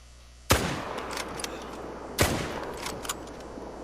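Two loud rifle shots in a hunting video game, about a second and a half apart, each a sharp crack followed by a long rolling echo, with no talk.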